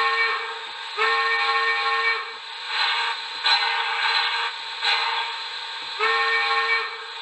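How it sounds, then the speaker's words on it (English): A shrill steam-style whistle from a model Reading T-1 steam locomotive blows in repeated long blasts with short gaps, steady and fairly loud. "Here is the whistle."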